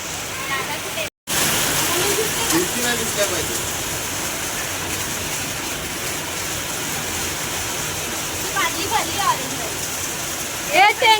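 Heavy rain pours steadily during a hailstorm, a dense, loud, continuous wash of falling water, with faint voices surfacing briefly near the start and again toward the end.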